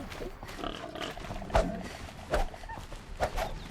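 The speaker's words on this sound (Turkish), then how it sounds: "domuz sesi duydum" Several short, deep pig grunts and snorts from the video game Horizon come in irregular bursts over a low background hum.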